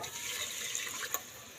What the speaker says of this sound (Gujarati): તેમાં નાખી દઈએ પાણી